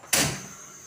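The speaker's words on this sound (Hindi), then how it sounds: "इसमें पानी डालूंगी और गोश्त को गलने के लिए रख देंगे हम।" Water is poured into a pressure cooker of mutton (gosht) being set to cook until tender for a spinach curry, arriving as one sudden splash that then fades into a faint, steady hiss.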